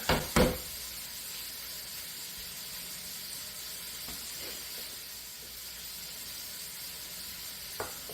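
Butter sizzling and hissing steadily in a pan while pork chops cook, a close, even crackle with a couple of sharp knocks near the start and a faint clack toward the end.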